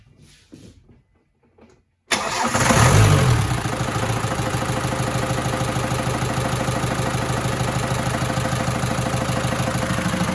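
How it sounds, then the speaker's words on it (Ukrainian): After a short quiet stretch, an old Ford Transit diesel in a smoke-filled garage, fitted with new injectors, bursts into a loud, continuous, evenly rhythmic churning that carries on unbroken nearby. "Вже дизель повні форсунки, а запускатися, як бачите, не хоче і повний гараж білого диму."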